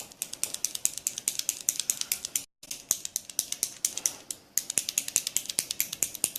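A LipSense lip color bottle is shaken steadily, giving a quick, even stream of small close rattling clicks with one brief gap partway through and no voices.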